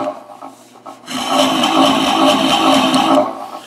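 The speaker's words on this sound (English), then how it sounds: "it does a nice job of the scraping all that out, smoothing everything out, getting ready for sanding" A scraper rubs across a large wooden platter spinning on a lathe, a steady, loud rasping scrape that starts abruptly after a few quieter touches, then fades out near the end.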